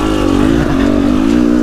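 A 2023 KTM 250 XCW dirt bike engine held at low RPM in second gear, a loud close steady two-stroke burble with a slight dip and recovery in pitch, no talk over it.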